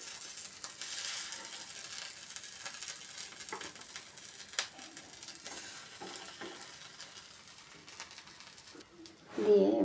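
Flatbreads fry one by one on a buttered pan with a soft, steady sizzle and occasional scraping, ending in a louder clatter of utensils.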